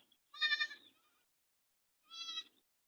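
Two separate bleats from a goat, the first loud and drawn out, the second shorter and slightly softer, with quiet pauses around them.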